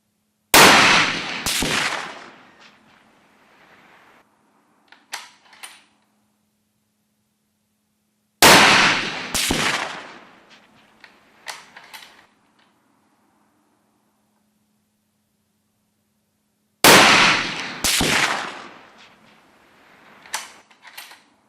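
Remington 700 Composite rifle firing 7x64 caliber rounds at a shooting range, three loud sharp shots spaced several seconds apart, each followed by a fading echo and small clinks.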